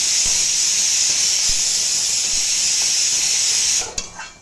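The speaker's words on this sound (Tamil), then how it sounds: "சாரி குக்கர் சவுண்டு வந்தது" A pressure cooker whistles in a home kitchen, letting out a loud, steady hiss of steam that holds for several seconds before cutting off abruptly near the end.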